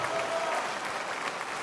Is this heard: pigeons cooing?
no